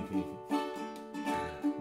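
Ukulele island strum, a few soft strummed chords in a loose syncopated pattern, quiet and close with no voice over it.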